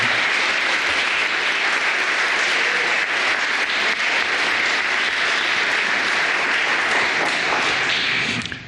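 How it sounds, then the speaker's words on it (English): Sustained audience applause at a New York State mock trial finals, a dense, steady wash of many hands clapping that fills the room evenly for the whole stretch before tapering off at the very end. "So let's give a round of applause to each of the witnesses."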